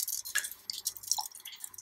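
Oil poured gently through a strainer into a jar, with fine trickling, dripping and splashing sounds throughout, close up.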